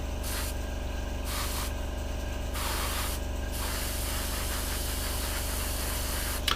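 An airbrush sprays paint onto the cockpit of a Hasegawa 1/48 Harrier GR7 scale model, a steady close hiss with a constant compressor hum underneath, pulsing on and off in short bursts.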